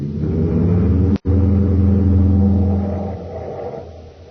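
A steady low car engine rumble in a radio drama drones on, briefly cut off by a sharp break, then continues and slowly eases down.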